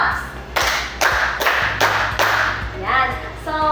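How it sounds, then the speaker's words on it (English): A classroom of students claps five times in unison, each clap loud and close, spaced about every half second, with voices murmuring between and after the claps. "give me 5 claps"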